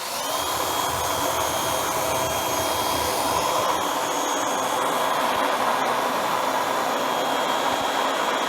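An Active VE51 1650 pressure washer sprays through a 3.5 nozzle at about 700 PSI, a loud, steady hiss and whine that runs unbroken for the whole stretch with no talk.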